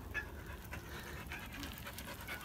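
Dogs pant in quick, steady breaths at close range, soft against faint background noise, during an RV trip near Bodega Bay.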